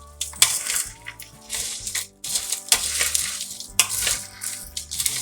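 Spoons stir a bowl of Halloween trail mix, giving bursts of crunchy rattling and clattering pieces in irregular bunches, close by, with background music underneath and no talk.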